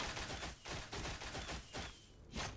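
Rapid Shot ability from a ranger in the video game Tarisland fires in quick, repeated volleys of loud, crackling shots, several bursts in steady succession over a few seconds.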